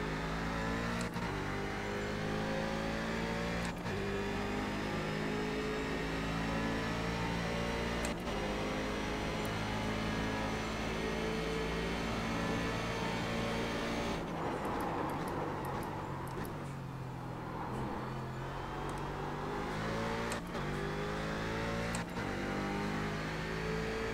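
Race car engine in the iRacing sim during a Grand Am race at Montreal, droning steadily for a long stretch with repeated revving rises, a few sharp shift blips, and a rougher, noisier patch midway.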